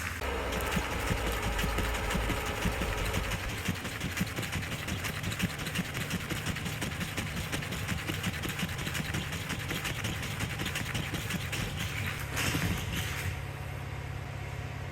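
A car's windshield wiper motors whir and grind continuously in a steady mechanical drone with rapid repetitive clatter, loud and close, a slight shift near the end.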